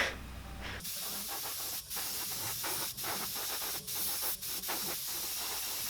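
An airbrush hisses in a steady, close, continuous spray, laying a thin coat of white paint onto a handmade rock bass fishing lure, with a few short pauses in the airflow.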